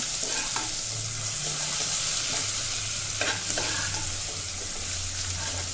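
Green chillies frying in oil for potato bhaji, a close, steady hiss of sizzling with occasional light stirring taps and scrapes.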